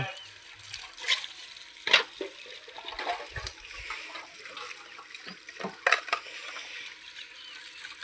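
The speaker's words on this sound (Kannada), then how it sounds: "ಪಾತ್ರೆ ಬೆಳಗೋದು." Dishes being washed by hand with water make intermittent splashes, pours and clinks, some sharp and close, with quieter running-water stretches in between.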